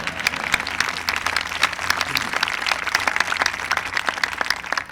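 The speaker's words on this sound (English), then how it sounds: "You can go ahead and clap" Audience clapping at the 2000 Oklahoma City bombing memorial dedication, a sustained spread of scattered individual claps throughout without speech.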